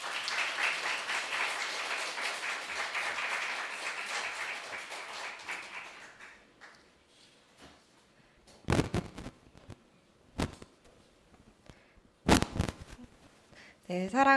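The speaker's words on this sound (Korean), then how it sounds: "오실 때 큰 박수 부탁드립니다." Church congregation applauding during a family worship service as a speaker is invited up, a dense steady clapping that fades out over several seconds, followed by quieter room sounds and a few sharp knocks.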